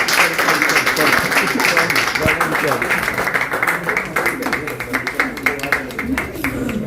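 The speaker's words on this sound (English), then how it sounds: "I think a big round of applause for them." Audience applause at a Bollywood-themed business and book launch event, dense clapping sustained throughout with music or voices mixed underneath, fairly loud and close.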